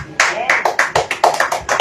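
Hands clap in a quick, slightly uneven series of about a dozen sharp claps, close and loud, during a healing message sermon.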